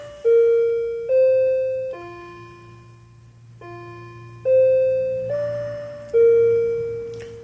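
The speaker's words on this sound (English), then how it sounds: "I'm going to stop for a second while the clock chimes out" A clock chimes a slow sequence of five or six resonant bell-like strikes, each ringing out and decaying before the next, close and clear over a quiet room.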